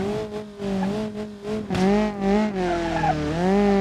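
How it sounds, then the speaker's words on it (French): A car engine in BeamNG drones with a rough, raspy exhaust note from an exhaust line holed by crash damage, revving up and down continuously at close range. "je viens de provoquer des dégâts sur ma ligne d'échappement et ça l'a troué"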